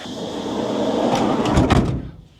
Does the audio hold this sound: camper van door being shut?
yes